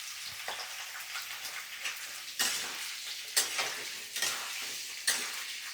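Food frying and being stirred in mustard oil for a Holi festival meal, a steady crackling sizzle with a few louder scraping stirs breaking through at intervals, close and without voices.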